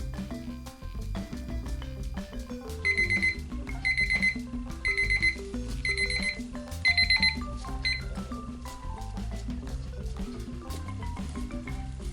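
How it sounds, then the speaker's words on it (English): A kitchen timer alarm going off after resin mixing, sounding several short bursts of rapid high beeping over loud, busy background music. "So I'm going to turn the timer to 5"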